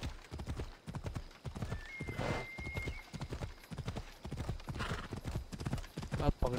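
In Assassin's Creed Odyssey, a horse gallops with a rapid, even clip-clop of hooves, loud and close, and gives a whinny partway through over game ambience.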